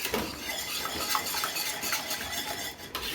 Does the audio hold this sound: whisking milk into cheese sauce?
yes